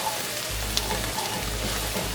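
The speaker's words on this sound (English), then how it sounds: "now in go the spices because we want to toast them to release all of their fragrance and flavor" Spices toast and sizzle in a pan with onions for a smoky eggplant curry, a steady crackling fry with small pops, close and moderately loud.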